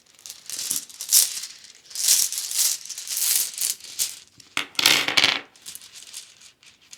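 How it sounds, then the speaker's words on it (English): Runes drawn by hand from a set during a tarot and rune reading, clattering and rattling as they are shuffled and dropped: repeated bursts of hard clinking, close and fairly loud, with brief pauses between handfuls. "let's draw some runes as well."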